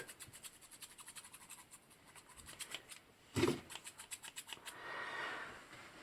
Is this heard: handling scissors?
yes